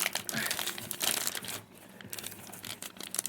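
Plastic packaging around silver items crinkles and tears in quick, close bursts, rustling loudly, then a brief pause before more crackling handling.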